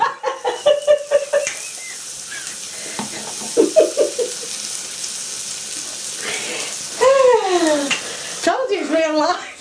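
Eggs cracked into a hot frying pan while cooking homemade burgers, mash and beans, with scraping and sizzling under frequent talk and exclamations from people in the kitchen.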